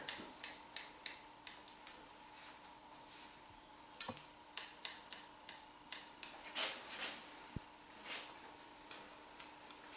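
Shears snip hair behind the ear during a short wispy haircut, a brisk series of crisp metallic clicks in an uneven rhythm, close and clear over a faint background hum.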